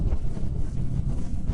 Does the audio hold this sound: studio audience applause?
no